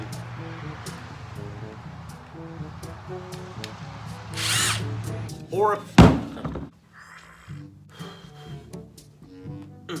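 A power drill whirs in short bursts amid clicks and clunks while hanging a sign with picture wire, with a loud thunk partway through and people talking intermittently.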